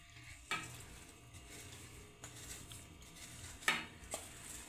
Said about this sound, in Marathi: आता ह्या तेलामध्ये आपण जो गूळ चिरून ठेवलेला आहे तो घालून घ्यायचा आहे